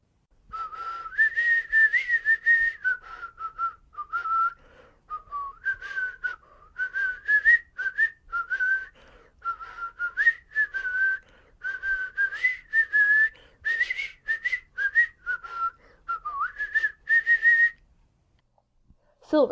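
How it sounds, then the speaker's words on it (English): A man whistles the old tune "Come, Lasses and Lads," a clear, close melodic line in short phrases with brief breaths between, carrying on for nearly twenty seconds before stopping. "He was whistling, "Come, lasses and lads.""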